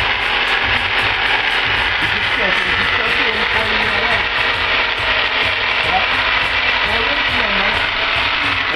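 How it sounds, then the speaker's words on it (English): An electric jigsaw cuts fretwork in wood, a continuous buzzing, rattling drone held close and loud for the whole stretch, with faint shifting tones beneath. "Press on the back of the jigsaw and run."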